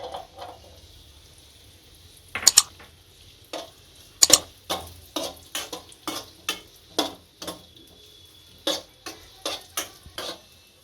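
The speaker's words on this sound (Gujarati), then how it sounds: "અને અંદર આપણે એક ચમચી ઘી નાખી અને કિસમિસ શેકી લઈશું" Raisins frying in a spoonful of ghee for bread halwa. A spoon scrapes and taps the pan in a steady series of sharp, close clicks over a faint sizzle, with a couple of louder knocks early on.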